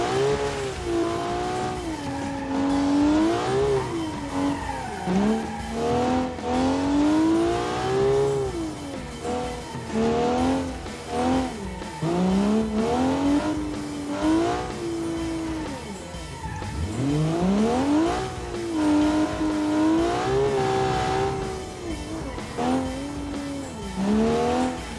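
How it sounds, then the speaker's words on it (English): Inline-six turbocharged track car in the BeamNG driving game, engine revving up and down through gears for the whole stretch with rising and falling pitch sweeps, loud and close, with occasional tire squeal and no talking. "This 6-cylinder engine, the inline 6 turbo, I'm truly impressed with it. Sounds amazing"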